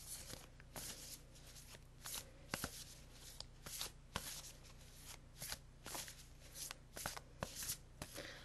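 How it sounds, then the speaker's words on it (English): A deck of angel cards is shuffled by hand, giving repeated soft riffling and slapping bursts in a steady rhythm, close and quiet, with no talking. "So I'm going to shuffle."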